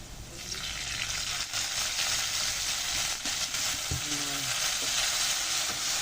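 Food sautéing in a pan with fish sauce added, a steady loud sizzle and crackle of hot oil lasting throughout, with a few faint clinks of stirring.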